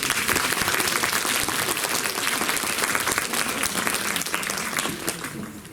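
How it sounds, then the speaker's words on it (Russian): Theatre audience applauding before the premiere of the stage play "Брак": dense, sustained clapping from a full house, loud and steady throughout before easing slightly at the end. "ваши бурные аплодисменты для наших артистов."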